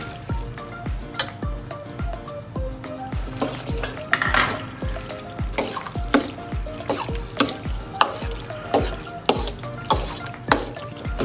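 Macaroni stirred into a chicken white sauce in a pan, a spoon scraping and clinking in a steady rhythm with soft sizzling underneath, close and moderately loud throughout.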